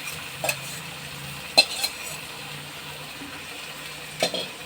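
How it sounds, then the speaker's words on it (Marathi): Cooked green mung beans tipped into hot ghee give a soft, low sizzle, with a few sharp utensil clinks and scrapes of stirring near the start, middle and end. "तूप गरम झालेलं आहे आणि त्याच्यामध्ये आपण आता हे ओले शिजवलेले मूग आपले जे होते ते टाकले"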